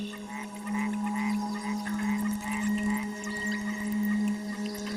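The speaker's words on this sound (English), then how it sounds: "tune into the calls of the white-lipped frogs" A chorus of white-lipped frogs calls at night, short chirping notes repeating over a steady low tonal drone, fairly faint and continuous, with no voices.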